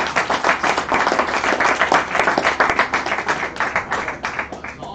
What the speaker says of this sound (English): Can I get another hand of applause?